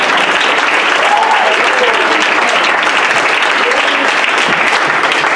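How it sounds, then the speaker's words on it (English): A live audience applauds steadily and loudly for several seconds, dense clapping filling the room, with a faint voice or two briefly audible underneath. "Let's clap him back in."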